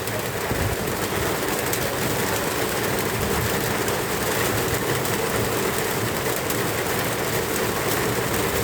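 Steady rain falls beside a village riverbank in Bangladesh, a dense, unbroken hiss with no gaps and no voices, loud and close throughout.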